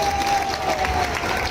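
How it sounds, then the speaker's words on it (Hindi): Crowd applause rolls through a political rally in a brief, dense burst of clapping and cheering from a large outdoor audience, with a faint voice or tone running beneath. "जरा तालियां बजाकर स्वागत करें"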